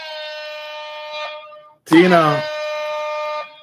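An alarm sounded during a live stream gives a steady, loud electronic tone that cuts off, is interrupted by a short spoken call, and then sounds again before stopping.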